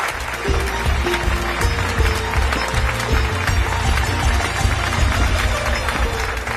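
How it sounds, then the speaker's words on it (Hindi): A studio audience claps loudly and steadily to welcome a drone company co-founder onto a Hindi television show, the dense applause continuing throughout over a low background rumble. "एक बार जोरदार तालियों से उनका स्वागत कीजिए"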